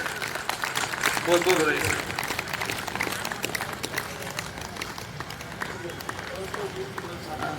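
Audience applause welcoming a speaker at a motivational energy camp: dense, steady clapping from a crowd filling the whole stretch, with a voice speaking over it.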